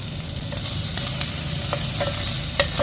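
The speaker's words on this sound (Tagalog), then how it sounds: "at lalagay na rin po yung Kaunting sibuyas" Onions frying in a pan for chicken liver adobo, a steady close sizzle with soft stirring scrapes and small clinks throughout, no voices.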